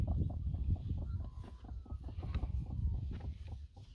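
Farm chickens, including a broody hen, clucking steadily at moderate distance, a dense overlapping chorus of short clucks with a faint higher call, no talking.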